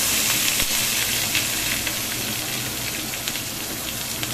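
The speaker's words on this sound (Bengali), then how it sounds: "ফোড়নটা একটু গরম হয়ে গেলে এখানে আমি দেবো এই যে আলু কেটে রেখেছি" Diced potatoes hit hot tempering oil for poppy-seed potatoes, a loud, steady sizzle of frying with crackling spatter and faint stirring clicks throughout.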